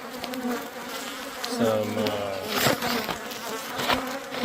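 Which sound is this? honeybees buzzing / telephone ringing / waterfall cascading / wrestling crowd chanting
honeybees buzzing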